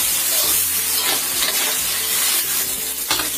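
Onion and garlic stir-frying in a pan, a constant close sizzle and hiss with scraping stirring strokes through it, no voices.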